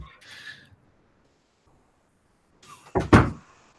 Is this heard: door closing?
yes